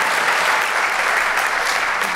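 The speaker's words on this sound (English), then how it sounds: "Can you give another round of applause?" Warm audience applause follows a sixth grade orchestra's performance at a school winter concert, steady dense clapping from a seated crowd with no talk over it.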